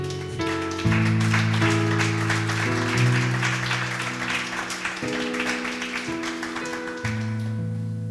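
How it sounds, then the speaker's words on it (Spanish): Church congregation clapping for the Lord while sustained keyboard chords play loudly over the steady, lighter applause. "¿Puede dar un aplauso al Señor?"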